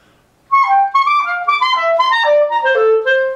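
A short clarinet passage from Brahms's Piano Quartet Op. 25 plays alone, quick descending notes using false fingerings on overblown throat tones, giving a slightly veiled, altered tone, clear and close.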